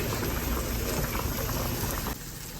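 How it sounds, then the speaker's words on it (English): Steady bubbling and rolling of boiling water with spaghetti noodles, a dense continuous simmer that drops slightly in intensity near the end. "We got the noodles boiling."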